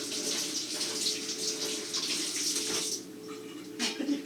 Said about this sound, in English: Going to rinse this off